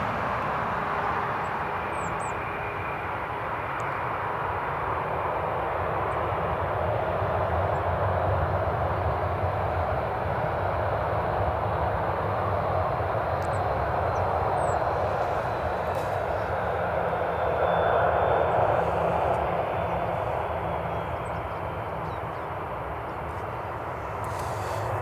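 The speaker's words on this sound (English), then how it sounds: "Ryanair has just requested taxi, they're ready to go." A Ryanair airliner with Maltese registration taxis for departure at Newcastle International Airport, its engines a steady broad roar that holds at a distance for the whole stretch, with no talk over it.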